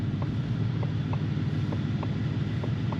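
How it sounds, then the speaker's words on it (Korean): Inside a Ford Mustang Shelby GT500 with a supercharged 5.2L V8, the sequential turn signal gives a faint, even ticking, about three clicks a second, under a steady rumble of engine and road noise. "그리고 이 시그널 소리 들리세요?"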